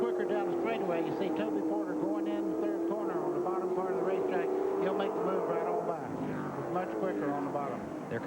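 Stock car engines roaring at Greenville-Pickens Speedway during the 1995 Domino's Pizza 200, a steady loud drone with shifting pitch as the close-running pack circles, with an announcer talking over it throughout.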